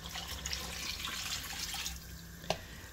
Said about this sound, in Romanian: adaug apă